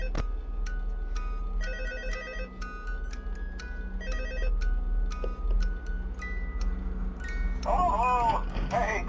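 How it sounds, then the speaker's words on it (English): A phone rings in the Five Nights at Freddy's VR video game with repeated bursts of electronic ringtone chirps over a steady low hum and faint ticking, fairly close, followed by a warbling tone near the end. "My phone is buzzing in my pocket."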